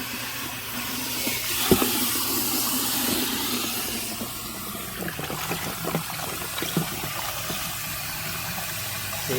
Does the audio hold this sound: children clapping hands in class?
no